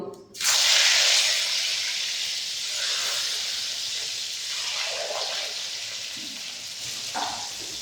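Eggplant slices frying in a pan for a Bengali meal, sizzling and hissing steadily after a sharp start, loud and close with a continuous crackle and no talking.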